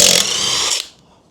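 A DongCheng brushless impact wrench with 900 Nm of torque spins a wheel nut off in one loud, close, continuous hammering whir that stops abruptly and leaves a faint tail.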